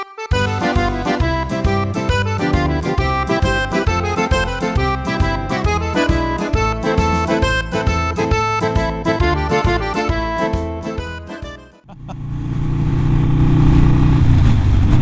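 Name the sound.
Harley Davidson Sportster 48 motorcycle riding past cars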